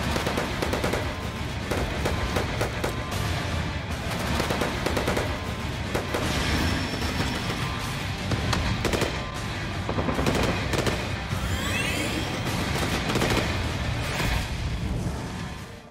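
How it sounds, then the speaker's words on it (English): AK-74U submachine gun fire from the video game Modern Warfare Remastered comes in rapid, sustained automatic bursts that hammer on almost continuously and loud, with brief gaps between volleys and no talk. "a really nice example of what the weapon sounds are going to be like in Modern Warfare Remastered"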